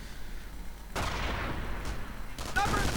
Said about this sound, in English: Mortar rounds still flying.